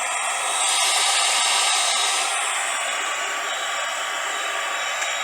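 Fans on a gaming graphics card spin at 100% speed, producing a loud, steady, hair-dryer-like whoosh with a high whine that holds constant throughout, with no talk.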